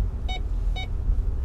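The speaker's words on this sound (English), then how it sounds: "I'm definitely going to not like this beeping crap." Two short, evenly spaced electronic warning beeps sound inside a pickup truck over a low engine rumble.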